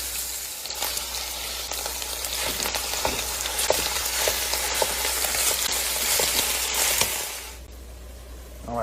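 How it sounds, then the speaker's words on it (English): Ground beef browning in olive oil in a Dutch oven, a steady sizzle and crackle with occasional stirring clicks, close and continuous, quieting near the end. "the meat is browning pretty well"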